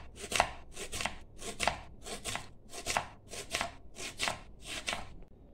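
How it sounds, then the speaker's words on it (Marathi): An onion being sliced lengthwise with a knife on a board while preparing dhaba-style paneer masala: about a dozen crisp, evenly spaced chops sound close and clear with no talking. "कांदा आहे ना हा आपल्याला आहे ना असा उभा कापून घ्यायचा"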